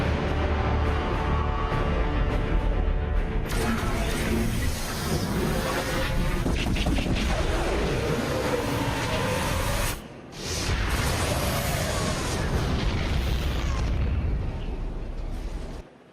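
A sustained orbital strike bombardment in StarCraft 2: Legacy of the Void, heard as dense, continuous booming explosions and rumbling bursts with one short dip midway.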